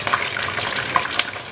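Egg rolls fry in a home kitchen pan, giving a steady, close crackling sizzle with sharper pops of splattering oil throughout, no voices.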